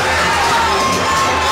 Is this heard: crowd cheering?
yes